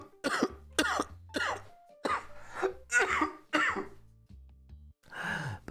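A person coughs repeatedly in harsh, close bursts, a series of hacking coughs with short pauses, ending in a strained exhale.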